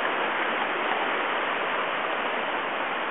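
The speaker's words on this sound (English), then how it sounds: "But there's another creek right here." A creek along a forest hiking trail flows in a steady, close rush of water, a dense even babble that holds at the same level throughout with no voices.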